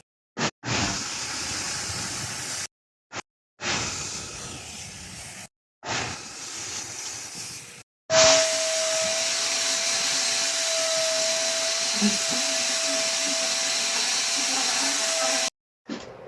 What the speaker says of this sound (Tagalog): At ito yung pang fog machine na tinatawag.